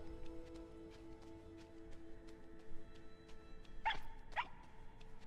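A dog in the video game Rime barks twice in quick succession over a soft, steady ambient game hum.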